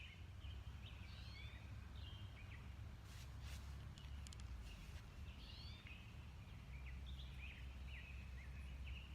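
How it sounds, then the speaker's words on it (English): Birds sing outside in short, bright chirps and trills, spread through the clip and fairly faint over a low steady background rumble, with brief scratchy rustles in the middle. "Can you hear the birds?"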